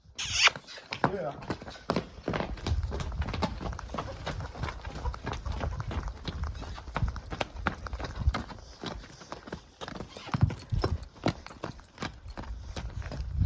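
Hooves of a draft horse mare clip-clop in a quick, uneven trot on hard ground, continuing steadily at close range while people talk in the background.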